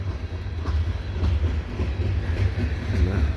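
A CSX coal train rolls past on the old B&O mainline in snow, with loud, steady clickety-clack of wheels over rail joints and a deep rumble close by.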